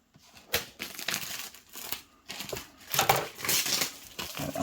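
A projector package is unwrapped by hand, giving loud crinkling, crumpling and tearing of plastic packaging in irregular bursts, close up with no talking.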